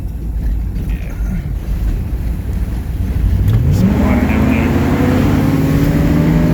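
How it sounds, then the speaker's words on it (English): An old Chevy truck engine revs through its intake while driving, rising in pitch from about halfway through and staying loud under steady road and wind noise. "listen to that intake."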